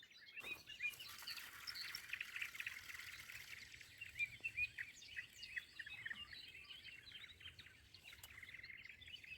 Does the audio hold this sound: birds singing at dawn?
yes